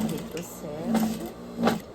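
Sewing machine backstitching bikini fabric, a short whirring motor run with rhythmic stitching pulses, heard under a woman's speech.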